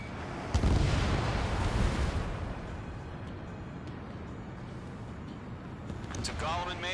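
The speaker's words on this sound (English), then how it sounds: "Mage 2 missile launch." A missile launches in the jet combat game Ace Combat 7 with a loud whooshing burst that swells over about a second, then trails off into a steady roaring rush of jet engine noise.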